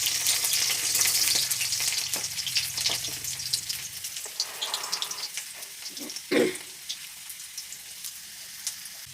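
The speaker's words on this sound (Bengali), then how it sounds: "এখন একটু কাজুগুলোকে তেলের মধ্যে ভেজে নেব।" Cashews fry in hot oil with a bright, dense sizzle that thins out after a few seconds. A couple of scrapes or clinks follow, and no voices are heard.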